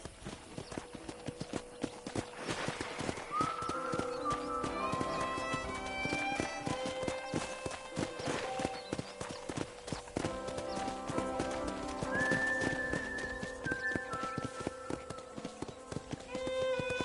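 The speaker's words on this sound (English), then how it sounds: "I picked out a fine horse for you." Steady clip-clop of horse hooves on the move on a ranch in Red Dead Redemption, with a horse neighing and whinnying now and then, over a busy game background.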